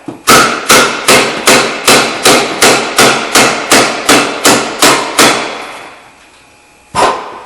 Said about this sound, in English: you grab yourself a hammer and you just tap it a couple of times